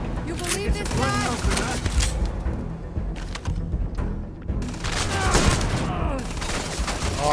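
Rapid gunfire bursts from the space game Starfield crackle almost continuously, loud and dense, with a voice talking over the shooting.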